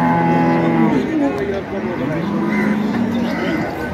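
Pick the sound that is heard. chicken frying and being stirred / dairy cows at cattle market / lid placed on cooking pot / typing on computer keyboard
dairy cows at cattle market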